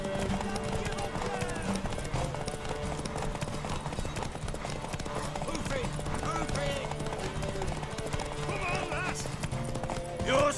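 Horse hooves clip-clop steadily with neighing and whinnying in Witcher 3: Wild Hunt, sitting under game music and voices talking throughout.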